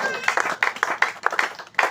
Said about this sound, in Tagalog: Palakpak para sa Ginoo mga igsoon.